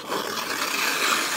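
Sandpaper torn by hand to roughly the size of a Kestrel container: a short, continuous close-up rasping rip with steady loudness and no voices.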